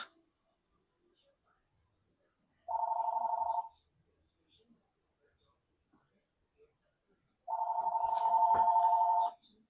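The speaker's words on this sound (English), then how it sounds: "Sorry about that, guys. Phone call." An incoming call makes a telephone ring twice with a steady electronic tone. The first ring is about a second long and the second is longer and louder, close by in an otherwise quiet room.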